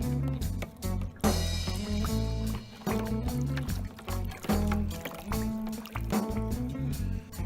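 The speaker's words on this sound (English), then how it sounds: "once I dissolve all this powder in the bucket over here" Flocculant powder is stirred into a bucket of water, giving continuous sloshing and swirling liquid sounds with irregular splashes, close and fairly loud, alone without talk.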